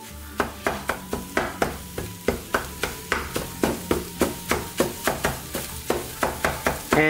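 A spatula repeatedly chops and flips scrambled eggs in a frying pan, producing sharp, evenly spaced clacks against the pan about three per second over a soft sizzle, close and clear with no talking.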